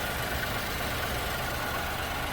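A 2022 Ford Bronco Sport's 1.5 L engine idles steadily, a continuous, even mechanical hum with a fine rhythmic patter, heard alone at moderate loudness.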